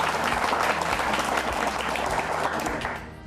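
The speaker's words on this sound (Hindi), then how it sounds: "श्याम जी के लिए एक बार जोरदार तालियां हो जाए यहाँ पर" Audience clapping for Shyam ji on a travel show, a thick, continuous wash of applause holding steady and close before tapering off at the very end.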